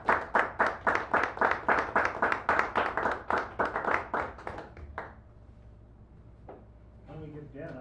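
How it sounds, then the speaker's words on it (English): Audience at a San Francisco café poetry reading claps in a rhythmic burst of distinct, fairly close handclaps that thin out and stop, leaving quiet room tone and a voice starting at the end. "Give him a nice round of applause,"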